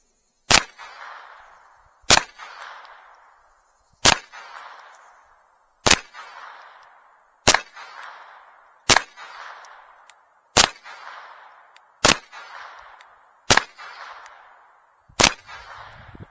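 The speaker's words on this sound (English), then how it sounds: "I'm not shooting for the moon here at 12 yards" Ten sharp, loud pistol shots from an Umarex-made FN 502, fired one at a time at 12 yards, each crack evenly spaced about a second and a half apart with a short ringing tail.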